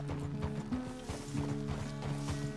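Horse hooves thud at an uneven gait while riding in Red Dead Redemption 2, close by, over a sustained tonal game music bed, with no voices.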